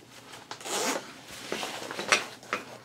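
A number 10 zipper on a bag's main compartment is pulled open in a few quick, raspy strokes, close and fairly quiet, with brief pauses between pulls.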